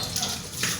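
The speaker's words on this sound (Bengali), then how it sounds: "ইলিশ মাছটা ধোয়া হয়ে গেল" Hilsa fish rinsed in water, a close splashing and trickling wash that swells and fades over a brief moment, with no voices.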